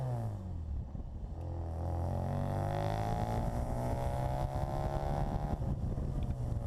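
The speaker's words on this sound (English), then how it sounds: "You'll also see there is a great exhaust note." A 1275-engined Austin-Healey Bugeye Sprite's exhaust rumbles steadily as it drives, a low throaty drone rising slightly in pitch, with some wind noise over it.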